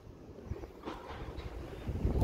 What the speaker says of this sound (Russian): Сейчас ветер немножко утихнет.